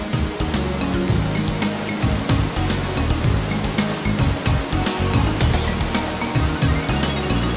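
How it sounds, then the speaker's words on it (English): Dettifoss waterfall in northern Iceland, its torrents plunging into the gorge as a loud, steady roar of rushing water with a constant, dense low rumble and no voices. "The spectacle of the untamed torrents of the Dettifoss that constantly plunge into the depths below is one of the most impressive natural spectacles in Iceland"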